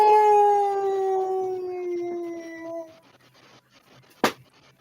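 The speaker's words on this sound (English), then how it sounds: "you hear in the woods a howl of" A long wolf howl rises in the woods, loud and sustained with gliding, slowly falling pitch for about three seconds, then fades into quiet rustling background with one sharp sudden burst near the end.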